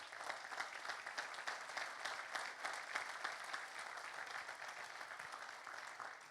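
A church congregation at a pastors' and leaders' convention applauds for Jesus, a steady, dense wash of many hands clapping that holds at an even level for the whole stretch.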